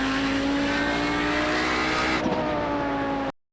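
An Audi 90 GTO race car on the Road America track, its engine screaming at high revs in a loud sustained drone held close, with a brief shift or dip near the end before the sound cuts off.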